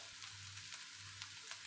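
Vegetables being sautéed for a pasta salad sizzle steadily and fairly quietly in a pan, with no talking over the constant frying hiss.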